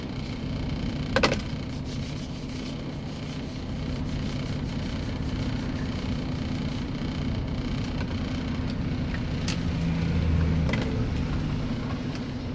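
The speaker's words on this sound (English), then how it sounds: "these cars just keep coming" Cars and a pickup truck rush past on a busy highway near I-90, heard from inside an idling truck cab as a continuous low rumble with passing swells and a few clicks.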